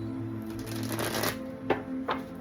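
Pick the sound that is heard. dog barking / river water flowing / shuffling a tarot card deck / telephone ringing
shuffling a tarot card deck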